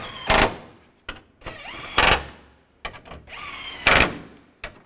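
A power tool tightens the upper fog light bolts on a 2015-2020 Cadillac Escalade in three short, loud whirring bursts, each followed by quieter clicks and handling noises.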